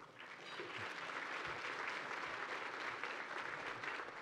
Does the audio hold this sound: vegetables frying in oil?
no